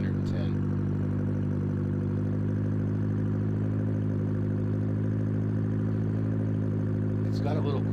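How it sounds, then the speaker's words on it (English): Steady drone of a single-engine Cessna's roughly 100-horsepower piston engine heard from inside the cabin during a forward-slip landing approach, a constant low hum with strong harmonics, with faint brief voices at the start and end. "Oh, I just love that sound. Single engine, 100 horsepower."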